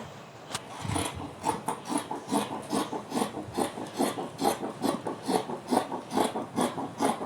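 A folded rope is trimmed to a straight edge with close, steady rasping strokes, about two per second, repeating evenly with no talking.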